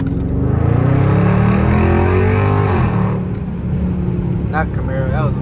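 A Dodge Charger Scat Pack with the 392 Hemi V8 and a loud exhaust accelerates hard, the engine note climbing then easing off, close and dominant, with a voice talking over it.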